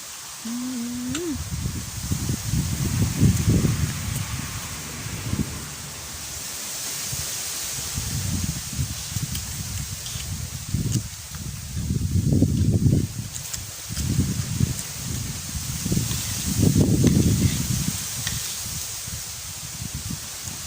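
Cold, dry wind gusting outdoors, buffeting the microphone in repeated low, rumbling surges with a steady airy hiss and faint rustling between gusts; no one speaks.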